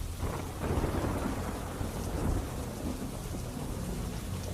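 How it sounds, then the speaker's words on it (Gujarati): Steady rain falls with wind in Gandevi, Navsari, Gujarat, as a dense, continuous hiss of drops, while low thunder rumbles and swells in the background throughout. "ગણદેવી સહિત આસપાસના ગામોમાં વરસાદ જોવા મળ્યો છે।"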